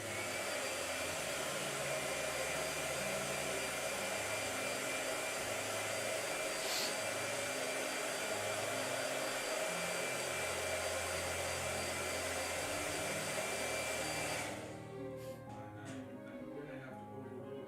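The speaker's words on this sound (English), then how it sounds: "Let me blow dry." A hair blow dryer runs steadily and loud for about fourteen seconds, drying paint on a letter S painting, then cuts off, leaving quieter room sound.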